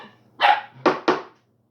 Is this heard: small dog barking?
yes